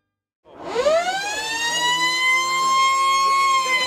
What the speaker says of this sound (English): Siren sounds, Cookie.